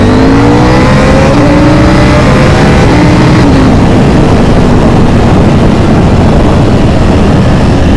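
A KTM 790 Duke with its stock exhaust internals removed revs hard close by, a loud, raspy engine roar rising in pitch at first and then settling into a sustained rumbling drone.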